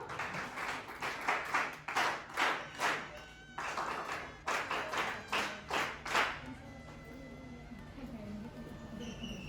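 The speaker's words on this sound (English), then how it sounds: "So have a huge round of applause for Aditya." Audience at a district-level science exhibition prize ceremony clapping in bursts for a prize winner, several waves of applause swelling and fading over about six seconds before settling into quieter room sound.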